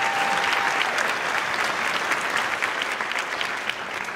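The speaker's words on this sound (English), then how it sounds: "How about you give them a nice round of applause?" An audience at a school winter concert applauds, a dense, steady wash of clapping hands that holds loud throughout and eases off only slightly toward the end.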